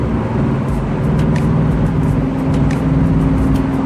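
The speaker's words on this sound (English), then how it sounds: "Now I'm back to driving Miss Daisy." A car drives along a road, heard from inside as a loud, constant low engine and road rumble with no break and no talking.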